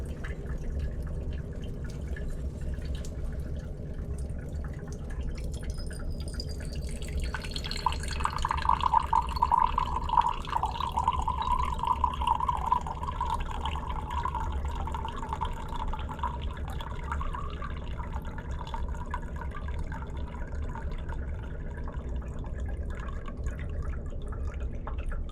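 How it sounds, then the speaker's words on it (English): Water dripping from a permeameter into a 250 ml glass beaker in a lab, a soft steady trickle that grows more distinct midway, then settles into a continuous fill over a constant low background hum. "I have a 250 ml beaker, and I'm going to fill it to 200 mils"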